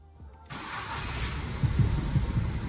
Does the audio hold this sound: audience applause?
no